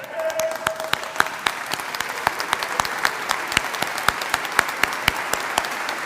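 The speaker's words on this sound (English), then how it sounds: "let's stand up and give them a round of applause" An audience gives a sustained round of applause, dense continuous clapping from many hands with sharp individual claps standing out, steady throughout.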